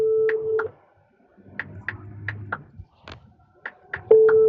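A phone rings through during a call, heard as a handful of short, clear electronic beeps in separated pairs and triplets, with a faint murmur of low sound between them.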